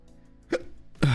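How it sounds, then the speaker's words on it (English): Two sharp hiccups, close and fairly loud, spaced about half a second apart, with no talking over them. "Fucking hiccups, dude."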